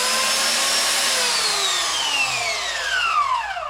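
A VEVOR belt sander with 80-grit belt grinds under pressure, a loud continuous whine with a motor tone that slowly drifts downward, close and alone without speech.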